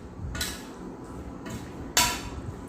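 Buffalo meat with hot and mild chilli powder and a little turmeric, for a Kerala-style pickle, is stirred inside a pressure cooker, giving three brief metallic scrapes and clinks, the last the loudest, over a quiet kitchen background.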